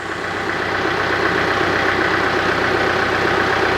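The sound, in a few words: tractor engine running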